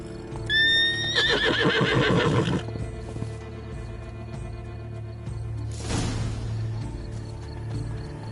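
Roach, a horse in a video game, whinnies loudly with a rising, shaky neigh near the start, followed by snorting and light hoof clops, then a brief breathy snort later over a low steady hum.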